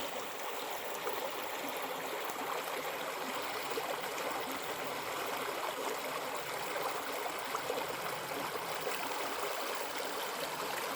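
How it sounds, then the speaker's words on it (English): Meltwater flows under snow in a winter landscape, a faint, steady trickling and rushing wash that continues unbroken and quiet throughout with no voices. "Water under the snow."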